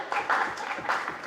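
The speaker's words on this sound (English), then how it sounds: "This is where you clap." Audience applause at a conference event, a brief burst of clapping from a crowd lasting about a second.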